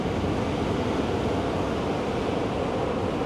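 Loud, continuous rushing of ocean waves, a dense roar of surf with no breaks and no voices.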